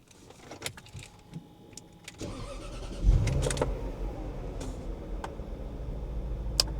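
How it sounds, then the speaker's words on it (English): An L322 Range Rover engine restarting after being switched off: faint clicks, then the starter catches with a sharp low thump and the engine settles into a steady, close idle rumble with no talk. "I'm going to turn it off and see if it'll start again."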